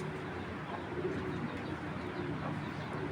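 Giribaz tournament pigeons, an old original breed of flying pigeon, cooing softly and continuously against a steady background hum, with low murmuring calls blending together throughout.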